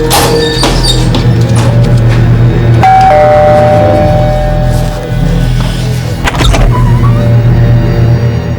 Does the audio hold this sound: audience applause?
no